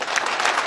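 Loud audience applause fills a hall at an alumni association inauguration and New Year gathering, many hands clapping in a thick, continuous burst over a short span.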